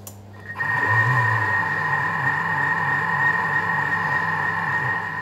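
A Thermomix motor starts up at speed 2 while cooking chocolate at 90 degrees, a steady close mechanical hum with a faint rhythmic churning underneath, running without talk.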